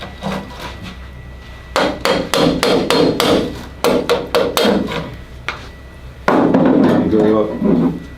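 A starter broach is hammered into the femur of a hip bone model, sharp repeated hammer blows in quick rhythmic bursts separated by short pauses, close and loud, with brief talk in between.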